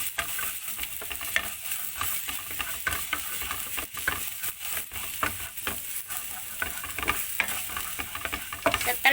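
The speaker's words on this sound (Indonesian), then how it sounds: "Tumis bawang putih guys, tumis sampai harum ya." Garlic stir-fries in hot oil in a pan, a steady sizzle broken by repeated scraping and tapping of a utensil, close and without talk.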